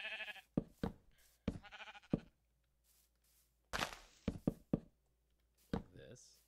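A sheep bleats in a farming video game, short nasal calls recurring between bursts of nearby speech, with light knocking or thumping sounds mixed in.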